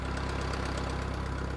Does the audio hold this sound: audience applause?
no